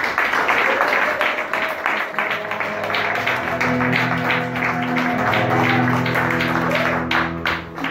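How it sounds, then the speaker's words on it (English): A church congregation claps in steady rhythm, a chorus of hands beating under rising music and voices, with a speaker talking over it at the start. "Let us clap for the Lord Jesus Christ."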